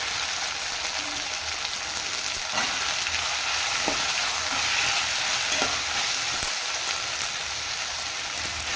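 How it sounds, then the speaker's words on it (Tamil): Vegetables, village beans and potato for a sabji, sizzle as they are stir-fried in a pan: a dense, steady frying hiss with a few sharp scrapes and clicks, close up and without speech. "இப்போ இது ரெண்டுமே வதங்கிருச்சு, நம்மளோட காய்கறியும் சேர்த்துக்கலாம்."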